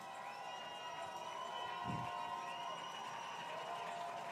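A football stadium crowd roars in a broad, continuous wash of noise from the stands, steady and distant-sounding, with a brief low thump near the middle.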